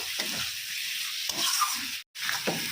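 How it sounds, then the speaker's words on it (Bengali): Pangas fish curry with cumin paste stirred in a pan, a continuous close sizzle broken by short scraping strokes and one brief pause, no talking. "তো আর একটু ভালো করে নাড়াচাড়া করে নেব।"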